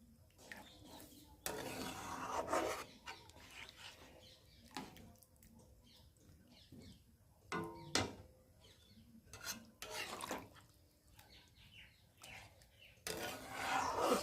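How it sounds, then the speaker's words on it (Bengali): A ladle spatula mashes dalia khichdi in a pot in bursts of soft rasping, scraping strokes separated by quiet pauses, with occasional light clinks of metal against the vessel. "হাতার খুন্তি দিয়ে একটু ভালো করে বেটে দেবো।"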